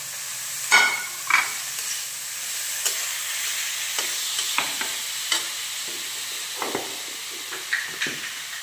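Grated cabbage fries in a pan with a constant soft hiss, broken by scattered clicks and scrapes of a stirring utensil, close and moderate in level.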